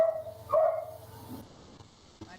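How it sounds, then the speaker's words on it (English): A dog barks close to a microphone on a call, one loud bark followed by fainter yips and whimpers, alone without speech. "we can hear any dog near you and it's very noisy."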